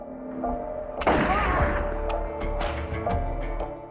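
A gunshot fired at a man in a van cracks out loud and sudden as a single sharp burst, followed by ringing clatter and a few fainter knocks over dramatic background tones.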